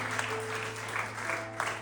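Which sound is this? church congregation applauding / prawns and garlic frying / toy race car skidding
church congregation applauding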